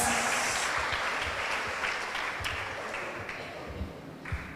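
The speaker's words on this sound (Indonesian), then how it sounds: "kita beri tepuk tangan untuk Kak Dinda" Audience applause at a farewell ceremony for psychology faculty graduates, a dense, loud clapping that starts strong and slowly fades with a few scattered claps near the end.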